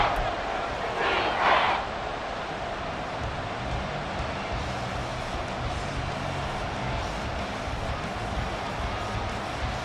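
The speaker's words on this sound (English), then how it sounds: "This crowd turning up the decibel level." A simulated stadium crowd in the Madden 24 football video game roars steadily at moderate level during a game. A brief louder swell comes near the start, then a constant, even wash of crowd noise.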